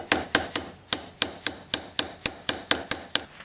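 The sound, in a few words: hammering a pin into a rifle lever held in a vise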